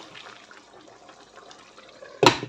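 Water runs into a cooking pot being readied for spaghetti in a home kitchen: a soft, faint trickle and patter, then a short, louder splash near the end.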